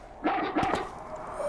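A dog in the video game Haunting Ground gives two quick sharp barks close up, followed by a lighter whimpering yip, against a quiet game background.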